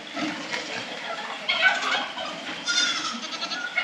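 Several goats bleat in a noisy outdoor homestead setting in the rain, their calls overlapping and repeating throughout, fairly close and loud.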